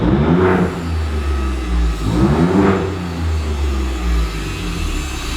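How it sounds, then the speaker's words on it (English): A 2020 Ford Raptor with an X-pipe exhaust idles with a deep rumble, then is revved twice in quick rising bursts that drop back to idle, loud and close. "I'm gonna have to like rev it a couple times"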